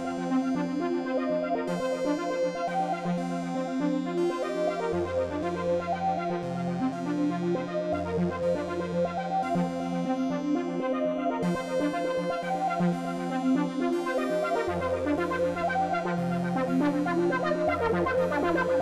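A VCV Rack synth patch runs through a Valeri filter with sharp attack and decay, giving punchy, bright notes over a shifting bass line in a steady, continuous sequence, with no talking.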